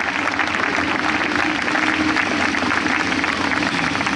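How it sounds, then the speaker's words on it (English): An audience at a country fair claps in sustained, dense applause, a steady crowd-wide clatter of hands lasting the whole stretch without pause. "Big round of applause."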